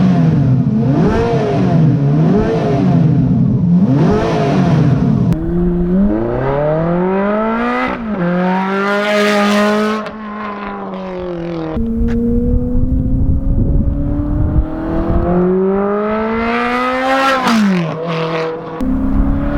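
A car engine revs hard and repeatedly through a new exhaust, its pitch climbing and falling in loud, raspy sweeps from a throaty exhaust.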